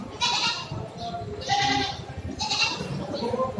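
Sheep at a livestock market bleat in a few overlapping, wavering calls, close by, over a busy background of crowd noise.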